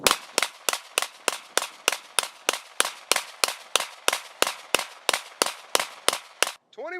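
Rapid, evenly spaced gunshots at an outdoor shooting range, about twenty sharp cracks roughly a third of a second apart, loud and close, followed by a brief voice at the end.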